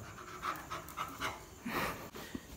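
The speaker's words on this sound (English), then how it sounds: "You are a dog." A standard American Bully dog pants close by in quick, rhythmic breathy puffs that come in short bursts, loud and unaccompanied by talk.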